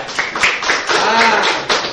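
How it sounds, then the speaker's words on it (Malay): Classroom applause for a student during a primary science lesson, a dense patter of many hands clapping steadily for about two seconds at close range, with a voice briefly heard among it. "Berikan tepukan kepada dia."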